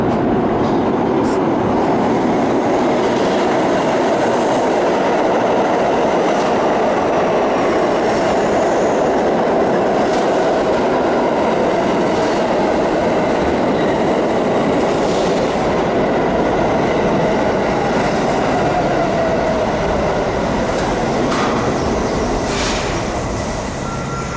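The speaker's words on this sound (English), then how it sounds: "So this is what a subway looks like" A New York City subway train rumbles and rattles along the tracks, loud and continuous, with wheels squealing and clattering over joints throughout.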